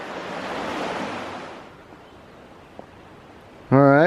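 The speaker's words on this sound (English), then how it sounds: "And there goes the river." A river rushes beside the Appalachian Trail, a broad roar of water that is strongest at first and then drops to a softer hiss. A voice begins speaking at the very end.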